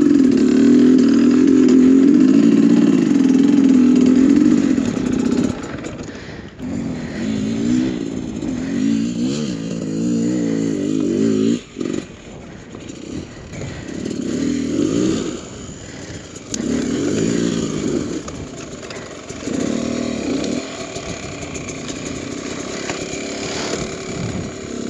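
A dirt bike engine revs loud and close, its wheel spinning on shale on an exposed ridgeline trail, the pitch rising and falling in long surges with brief dips.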